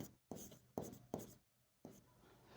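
Pen scratching across paper in a few quick strokes, four sharp separate scribbles with short pauses between them, close and quiet with no talking.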